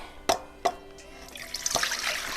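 Banana peel tea is poured through a strainer, starting with a couple of sharp drips, then a brief splashy trickle that turns into a steady, fairly faint pour, close by with no talk.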